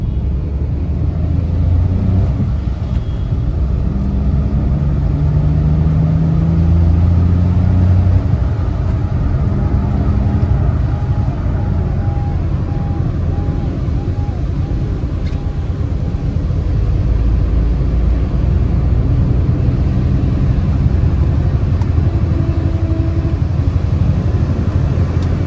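Hyundai Eon 1.0 car engine idling at a used car lot in Bargarh, a steady close low rumble running throughout with little variation and no talk.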